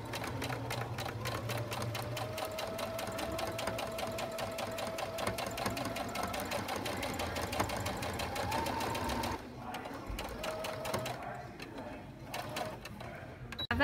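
A sewing machine back stitches and then runs down a seam on a quilted bag, a loud, close, rapid rhythmic hum for about nine seconds, then brief stops and quieter short bursts.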